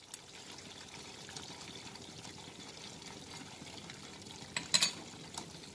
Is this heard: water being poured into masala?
yes